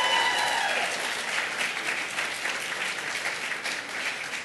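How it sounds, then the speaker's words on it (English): An audience at an awards event applauds, a large crowd producing a loud, continuous roar of clapping that holds steady throughout, with faint cheering mixed into the dense wash of hands. "can we please give Tiffany R. Warren a round of applause?"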